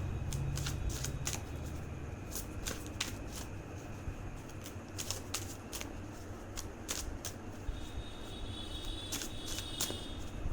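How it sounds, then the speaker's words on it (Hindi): Tarot cards are shuffled by hand, a continuous close riffling with many short sharp snaps of the cards at an uneven rhythm over a soft steady hiss, and no voice. "मैं एक और कार्ड लूँगी, बस एक और"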